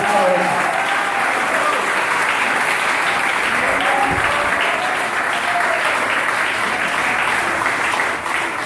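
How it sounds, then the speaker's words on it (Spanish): Church congregation applauding during a Spanish-language sermon, a steady loud wash of clapping with crowd murmur filling the whole stretch, no clear speech over it. "Denle un aplauso si quiere dárselo al Señor."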